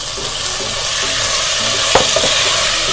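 Chopped tomatoes frying and being stirred in a hot pan for a black-eyed pea curry, a loud continuous sizzle with a few sharp scraping strokes near the end, no talk.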